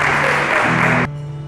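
A church congregation breaks into a loud, dense burst of applause that cuts off abruptly after about a second, leaving a low hum behind.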